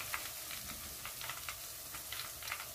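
Soda-battered mushrooms fry in hot oil with a steady, soft sizzle and faint crackling pops, quiet and continuous with no talking.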